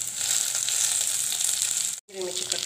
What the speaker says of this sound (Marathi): आता मी तेल टाकलं कढईमध्ये आपण कांदा टाकू, त्यामध्ये आपण लसूण चिरलेला आणि जिरे मोहरी टाकू